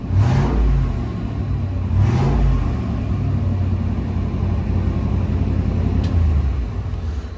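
Junkyard 5.3 LS V8 revving wide open on a dyno, loud rumbling engine with two sharp throttle blips early on and then a sustained, steady high-load drone, no talking.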